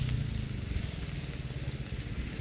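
Pork sizzles steadily on a hot tabletop grill, a continuous close crackling hiss with no voices.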